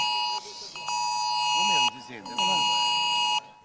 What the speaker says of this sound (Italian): il suono distintivo di IT Alert,